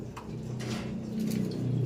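A pigeon-type bird coos in a short, close burst of soft repeated low notes, heard alone with no talking.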